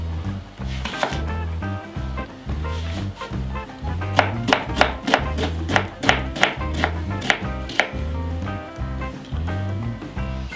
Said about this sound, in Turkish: Şimdi soğanlarımızı doğrayalım.